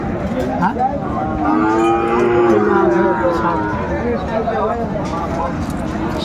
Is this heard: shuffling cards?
no